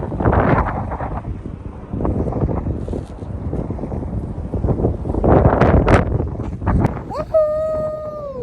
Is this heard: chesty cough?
no